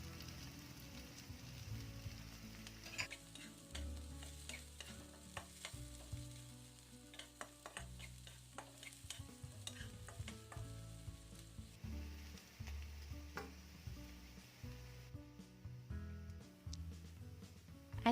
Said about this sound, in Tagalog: Ilagay ko na yung sibuyas.